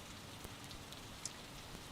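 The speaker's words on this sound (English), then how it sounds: "if the rain doesn't create zero visibility" Rain falls steadily at Gerald R. Ford International Airport in Grand Rapids, a faint, even patter on surfaces with a few sharper drips standing out.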